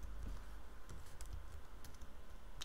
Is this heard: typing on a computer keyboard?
yes